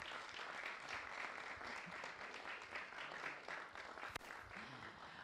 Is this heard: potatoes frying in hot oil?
no